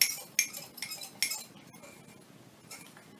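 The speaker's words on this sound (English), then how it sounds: "we're going to mix all the dry ingredients together" A metal spoon stirs dry cake ingredients in a mug, striking the ceramic in four or five bright clinks at an even pace, then quieter scraping with one more clink near the end.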